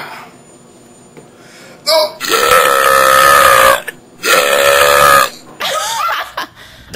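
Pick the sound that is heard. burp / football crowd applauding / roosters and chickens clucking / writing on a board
burp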